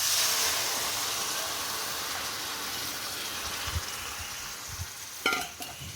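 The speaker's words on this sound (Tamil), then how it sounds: "இது நல்லா கொதிக்கட்டும் இந்த பச்சை வாசம் போகிற வரைக்கும் நல்லா கொதிக்கட்டும்" Tamarind gravy with fried onions bubbles and sizzles steadily in a pan on the stove, close and fairly quiet, with a brief clatter of a utensil near the end.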